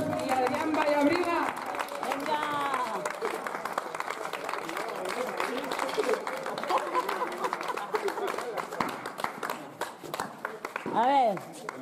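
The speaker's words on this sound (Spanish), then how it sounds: "Un fuerte aplauso, merecidos campeones han sido la pareja de Eros y Adrián Vallabriga." Crowd applause at a fronton tournament prize-giving, steady clapping from a nearby group mixed with chatter and voices throughout.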